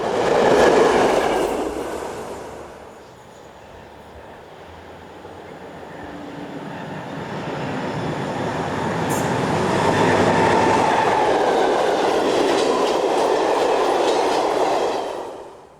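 An ex-East German Class 202 diesel locomotive passes on a German line, a loud sustained rumble and rail roar that swells close, eases, then builds again with clicking wheels before cutting off.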